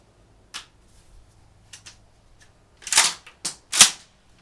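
A Kel-Tec KSG pump shotgun loaded with regular shotgun shells: a few soft mechanical clicks and handling noises, then three quick sharp cracks close together near the end, fairly faint overall.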